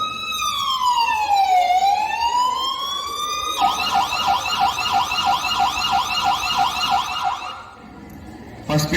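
An ambulance siren sounds up close and loud, first a long swooping wail and then a rapid repeating yelp pattern, before cutting out near the end.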